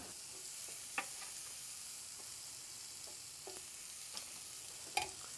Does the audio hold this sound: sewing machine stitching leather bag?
no